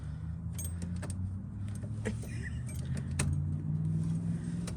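Car keys jangle and click in the ignition of a 1976 Oldsmobile Vista Cruiser that has sat for over 21 years, sharp metallic rattles repeating close up over a low steady hum, with no talking.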